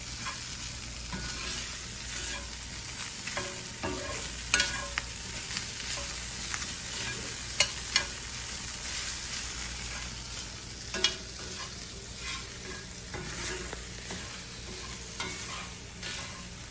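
Beef browning in a pan for a stir fry, a steady close sizzle running throughout with frequent spatula scrapes and clicks, no one speaking.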